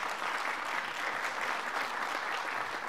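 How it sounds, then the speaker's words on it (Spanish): Steady audience applause at an international political summit held at the United Nations in New York, a dense even wash of many hands clapping that holds at a constant moderate level throughout, with no voices on top. "Para quien pido de nuevo un gran aplauso"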